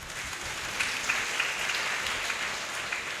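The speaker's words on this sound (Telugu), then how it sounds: "అదే సందర్భంలో చప్పట్లు కొట్టండి." A church congregation at St. Theresa's Church in Ongole claps together during a Sunday service, a steady, dense patter of many hands that holds at an even level throughout with no voices over it.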